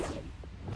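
A quick magical whoosh from the Accio summoning spell in the video game Hogwarts Legacy: a single short swish over a steady low rumble of game ambience.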